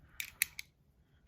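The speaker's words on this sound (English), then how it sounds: "Alright, I gotta cut out a bit here, one more." Scissors snip through material in three quick, sharp, close-up cuts, followed by a near-silent pause and a faint click.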